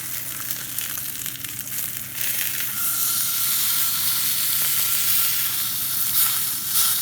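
A Morrison's sirloin steak just flipped in a hot pan sizzles and hisses steadily, the frying growing louder and brighter after a couple of seconds and continuing alone without talk.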